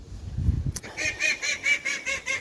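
After a low thump, a duck gives a rapid run of loud, repeated honking quacks, evenly spaced and close by.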